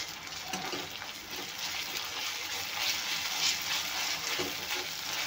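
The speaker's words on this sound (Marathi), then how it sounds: "आलं लसूण पण तेलात छान परतून घ्यायचं आहे।" Ginger garlic paste fries in oil with browned onion for a dried prawn chutney, a continuous moderate sizzle with occasional stirring scrapes.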